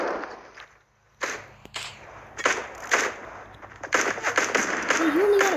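Pistol shots ring out in a Fortnite match, several sharp cracks scattered irregularly through the stretch, some in quick pairs, amid game noise and a burst of rising tonal effects near the end.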